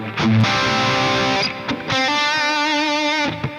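Electric guitar played through a JCM800 amp plugin with no EQ, giving a distorted, fizzy tone with piercing highs; sustained chords ring out loudly with a brief break in the middle, no talking.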